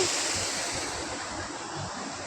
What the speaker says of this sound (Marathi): नदीला पाणी किती आहे बघू शकताय तुम्ही इकडून वाहताय तिकडून आहे पाणी